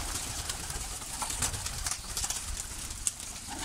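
Pigeons coo low and steady over a dense, noisy background near a loft, with faint rustles and one brief sharp tick.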